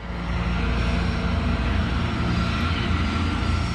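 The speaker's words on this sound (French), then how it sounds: "Le Boeing de la Pan Am dépasse la sortie C3 et continue en direction du 747 de la KLM" A Pan Am Boeing 747 taxiing on a runway, heard as a loud, steady jet engine roar that fills the whole short stretch without a break.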